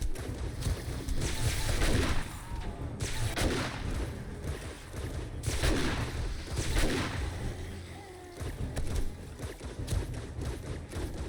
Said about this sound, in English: The shotgun is tearing this place to pieces.